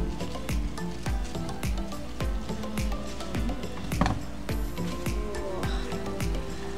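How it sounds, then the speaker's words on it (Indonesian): Leafy greens are stirred into mie nyemek noodles in a pan, with quick repeated scraping and squelching stirs over a soft sizzle, close and fairly steady. "jadi kita masukin daun-daunnya, lalu kita aduk rata lagi"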